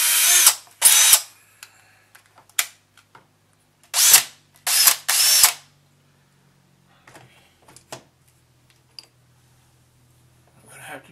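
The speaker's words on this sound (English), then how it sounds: "Drill two holes, one for each wire." A power drill bores two holes for baling wire while a sculptor starts a new piece. The motor whines in several short bursts separated by quiet pauses, close to the microphone, with faint clicks and handling sounds between them.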